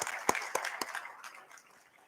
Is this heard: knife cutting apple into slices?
no